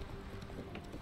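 Horse hooves in The Witcher 3, a quiet, soft rhythmic clip-clop of a trotting horse over about a second, faint and without talk.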